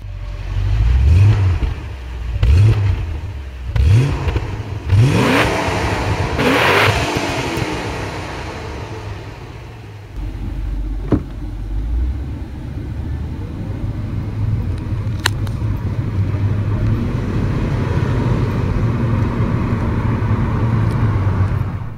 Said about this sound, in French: Ce V8 propose un fonctionnement très agréable ainsi qu'une sonorité qui m'a agréablement surpris, même avec la ligne d'origine